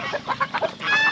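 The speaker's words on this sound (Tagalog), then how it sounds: "May mga mailan-ilan na manok tayo dito." Chickens on a farm cluck in short, close bursts, a few hens calling over one another for about a second with no talk.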